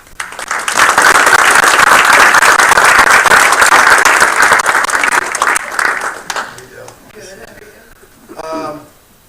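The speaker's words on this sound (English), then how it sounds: "Could everyone please give a nice, warm applause to our next honoree, Michelle Impoko." Applause for an honoree at a city council meeting, a loud, dense burst of clapping that holds for several seconds and then fades, followed by a brief spoken remark.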